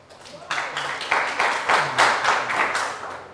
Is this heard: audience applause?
yes